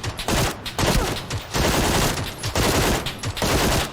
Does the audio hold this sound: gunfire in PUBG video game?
yes